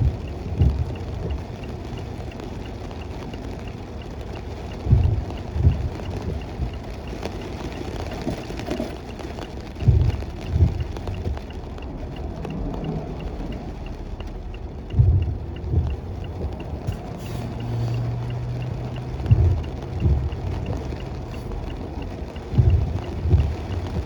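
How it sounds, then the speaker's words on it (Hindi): Heavy rain drums steadily on a car driving along a countryside road between Mississauga and Cambridge, with a constant broadband wash and periodic low thumps, loud and close throughout with no talk. "बारिश तो बहुत ही तेज़ हो रही है भाई"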